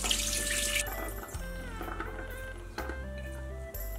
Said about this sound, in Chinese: 浸泡好的豆角控干水分